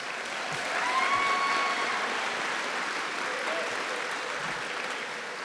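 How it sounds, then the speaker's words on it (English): A school 8th grade celebration audience claps for award recipients, steady dense applause from a large crowd filling the room at an even level throughout, with no pauses or cheering peaks. "let's give all of our award recipients another round of applause"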